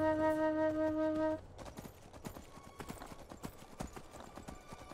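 Hooves clip-clop in a steady run through Enderal game audio after a tonal horn-like chord fades, the hoofbeats close and fairly loud with no voices.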